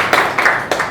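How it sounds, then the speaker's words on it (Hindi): Three sharp handclaps in quick succession at a gathering, fairly close and loud, with no talking over them. "ताली ताली ताली।"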